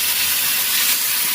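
Water splashes into a hot pan of cooking meat for a roti-and-meat dish, giving a loud, steady, broad hiss of steam that fills the short moment with no voices.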